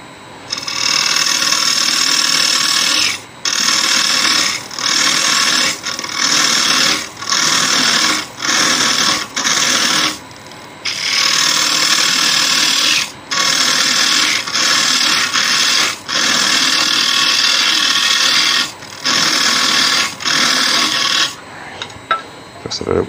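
A wood lathe spins while a tool cuts a shallow recess, about an inch deep, into a wooden candle-in-a-jar holder, making loud, rough scraping bursts broken by short pauses.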